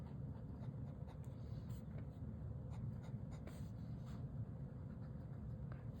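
Opus 88 Mini Sakura Cherry Blossom fountain pen writing on paper, a continuous close scratchy nib sound with small strokes and pauses, steady and fairly quiet.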